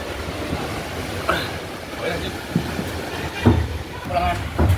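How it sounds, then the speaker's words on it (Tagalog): Strong typhoon wind gusts roar and buffet in Patnanungan, Quezon, Philippines, with irregular bursts and rushing noise, like a storm battering close by. "Lakas po talaga ng hangin."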